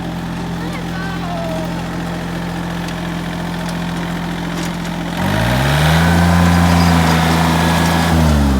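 A tractor engine idles with a steady low rumble, then revs up louder partway through and holds at a higher, throbbing pitch.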